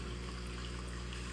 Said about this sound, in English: So how it works is the pump pumps water from the 220 up to my 125